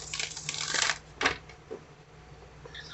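Tarot cards being shuffled by hand for a pick-a-card reading, giving quick riffling and flicking bursts that rise and fall over a few seconds, close and fairly quiet, with no talking.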